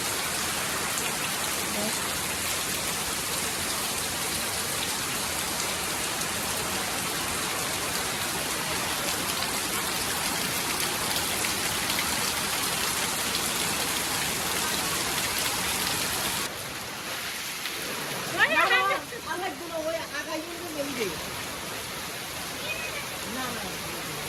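Steady heavy rain drumming on a tin roof, dense and loud throughout, easing slightly near the end where a voice is briefly heard over the rainfall.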